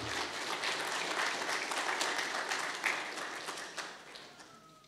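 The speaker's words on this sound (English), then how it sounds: "I think a round of applause, folks." Church audience at an ordination service gives a round of applause, steady broad clapping from a crowd heard at moderate distance, fading gradually toward the end.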